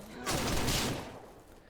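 A single loud rifle blast aimed at a bear in Ranch Simulator, a sharp crack followed by a quick, broad decay.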